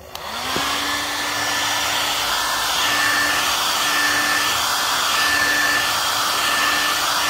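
A cheap Lotol hair dryer runs at its second speed setting with a steady, loud fan roar and a constant whine after a short start-up click, unbroken and with no talking.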